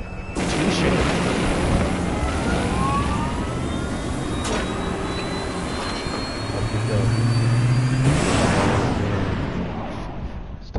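A fighter jet engine spools up in Resident Evil 6, a loud continuous roar with rising whine and a heavy boom-like swell near the end, with a voice briefly audible underneath.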